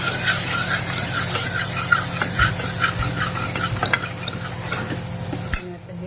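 Hakka noodles stirred and tossed in a hot sizzling pan, with steady scraping of a utensil against metal and occasional clinks over a continuous frying hiss.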